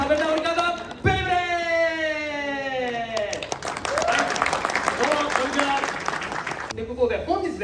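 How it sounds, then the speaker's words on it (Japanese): At a Beyblade X preview event, an announcer's voice leads into a burst of audience clapping for the toy's developer, several seconds of crowd applause with talk continuing under and after it. "改めて大きな拍手お願いします"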